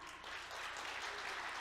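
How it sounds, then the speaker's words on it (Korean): An audience at the 2019 Korean small business management innovation awards applauds after a case-study presentation: a dense, steady burst of clapping from a crowd at moderate distance. "다시 한번 뜨거운 박수 주십시오"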